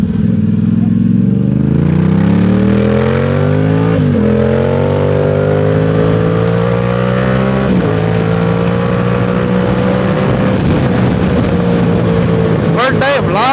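A Suzuki GSX-R1000 motorcycle engine revs and pulls hard through the gears, its rising tone climbing, dropping at each shift, then climbing again, loud and close, with a voice speaking over it.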